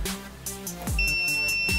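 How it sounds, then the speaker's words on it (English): A digital multimeter in continuity mode gives a steady, high electronic beep as its test leads touch, sounding alone for about a second after some soft handling clicks. "when the leads are touched together, you get a beep"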